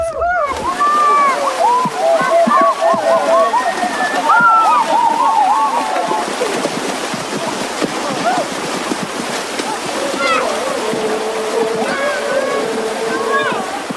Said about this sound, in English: After the meeting, the men head for a small river on the other side of the village to bathe.